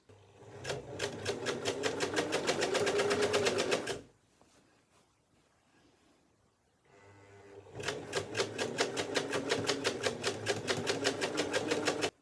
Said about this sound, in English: I stretch it flat and allow that to run through the machine while I'm stretching it out nice and flat